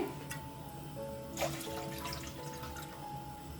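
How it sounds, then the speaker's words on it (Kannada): Water poured into a cooking pan, a soft steady trickle with a brief louder splash in the middle, fairly quiet and close. "ಇಲ್ಲಿ ಎರಡು ಎರಡರಿಂದ ಎರಡೂವರೆ ಬೌಲ್ ಆಗುವಷ್ಟು ನೀರನ್ನು ಸೇರಿಸ್ಕೊಳ್ತಾ ಇದ್ದೀನಿ"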